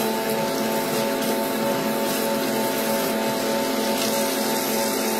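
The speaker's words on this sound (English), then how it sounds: "I gotta rinse my hands off." Hands are rinsed under running tap water in a home kitchen while baking, a steady close hiss and splash of water without speech.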